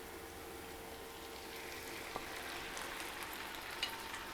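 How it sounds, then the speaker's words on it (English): Steady low sizzling of seasoned stew beef in a hot pan, constant and fairly quiet, with a couple of faint clicks. "There we go, sizzling."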